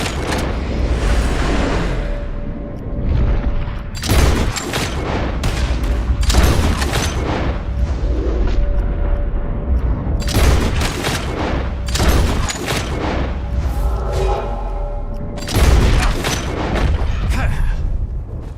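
Repeated volleys of gunfire from a shooting contest in Red Dead Redemption 2, loud bursts of shots recurring every few seconds over a steady background of game ambience.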